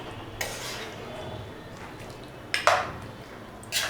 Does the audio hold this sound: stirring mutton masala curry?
yes